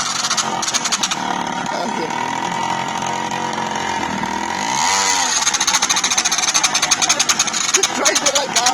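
A 1999 SYM Jet 50cc scooter engine runs with a buzzing, raspy drone that rises in pitch partway through as it revs, loud and close, while people talk.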